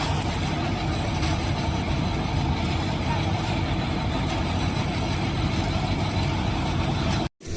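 A tractor engine runs steadily while chickpeas are loaded into its trolley, a continuous close rumble and wash of noise that drops out only briefly near the end.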